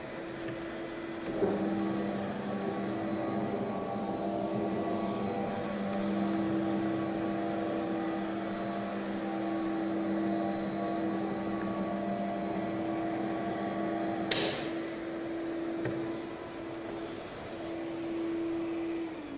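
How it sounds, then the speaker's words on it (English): A dust collector runs steadily while cleaning a granite floor before Klindex polishing, a continuous close motor hum with a steady whine and one sharp brief click midway. "So you simply connect dust collector, and simply you clean the floor."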